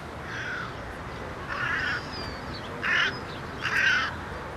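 Crows caw from a colony nesting in the Jardin des Plantes, a park in the middle of Paris, giving four harsh calls spaced across a few seconds over a steady hum of city background.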